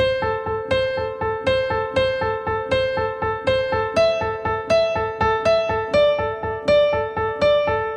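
Piano melody played quickly, a steady stream of bright notes over a repeating pulse, clear and moderately loud with no talking.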